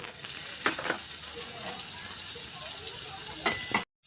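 Butter melts on a hot flat griddle with a steady, bright sizzle and occasional soft pops that hold throughout, then break off abruptly at the end.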